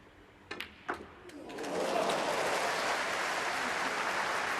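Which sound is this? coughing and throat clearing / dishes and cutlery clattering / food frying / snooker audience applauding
snooker audience applauding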